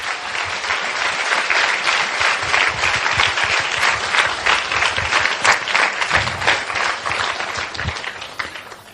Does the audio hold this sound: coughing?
no